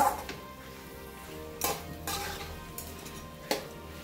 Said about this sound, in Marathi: हे व्यवस्थित असं आपल्याला मिक्स करून घ्यायचं आहे